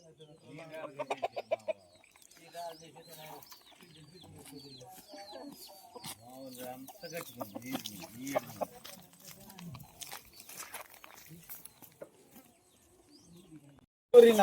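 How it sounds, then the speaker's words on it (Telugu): Free-range village chickens cluck and squawk in a busy, irregular chatter that runs throughout, ending in a sudden loud burst. "నాటుకోళ్ళు చూసారు"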